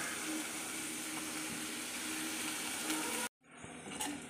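Sliced onions with curry leaves and slit green chillies sautéing in a pan for beetroot poriyal, giving a steady close sizzle and crackle that cuts off abruptly near the end, then returns more faintly.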